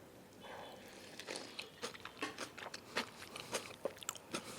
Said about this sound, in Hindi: मैंने इसकी बिग बाइट ली है अभी इसकी बर्गर की।